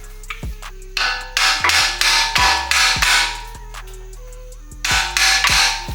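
A hammer tapping a bolt into the lower control arm of a 2013 Nissan Altima SV during front suspension work, sharp metallic knocks in small bursts with ringing decay, close and loud, no talking.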